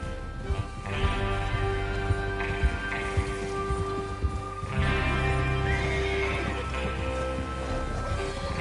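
Horses whinny and snort in the video game Red Dead Redemption 2, amid a busy ambient mix with steady tonal hum, several neighs rising and fading over the span.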